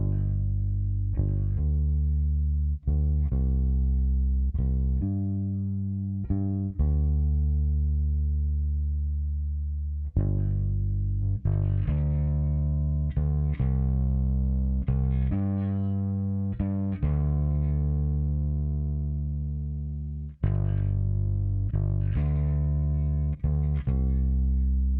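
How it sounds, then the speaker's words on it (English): Two layered bass tracks split by frequency, the upper band driven with distortion, play a sustained, gritty line in long held phrases with brief breaks, loud and alone without voices. "So we've got a nice sort of distorted sound bass,"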